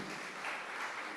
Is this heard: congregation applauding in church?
yes